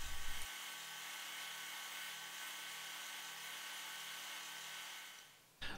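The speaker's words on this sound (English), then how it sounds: "so I'm just gonna use my belt sander to take care of those problem areas" A belt sander smoothing a hand-carved wooden swimbait lure starts abruptly and runs as a steady, close, high-pitched grinding whir for about five seconds before spinning down, with no speech.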